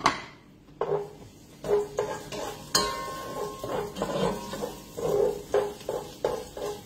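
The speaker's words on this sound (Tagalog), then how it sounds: "Lagay ko na yung aking bawang para hindi na siya diba?" Garlic going into a pan for pinakbet and being stirred, with scraping utensil clicks on the pan and a soft sizzle, in several bursts across a home kitchen, no talk.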